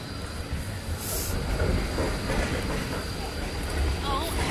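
A tram rumbles past nearby on an Australian street with a low rolling rattle and faint wheel squeal, steady and moderately loud, with some street noise around it.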